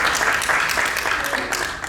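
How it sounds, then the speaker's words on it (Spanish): Steady crowd applause at a regional seminar, a dense wash of many hands clapping at close range, loud and even with no break, voices faintly mixed in. "un aplauso también para Alejandra"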